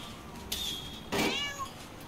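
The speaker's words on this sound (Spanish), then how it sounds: "¿y ese es el gato del Carmen?" A cat in the South Park video game meows twice, a short call followed by a longer, rising and falling meow, close and clear over a quiet background.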